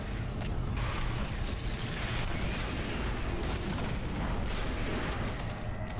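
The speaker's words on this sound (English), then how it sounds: "Is the Cyberdemon shooting its own dudes?" Cyberdemon firing in the first-person shooter Doom 3, a dense barrage of heavy booming blasts and explosions rumbling continuously and loudly with no pauses.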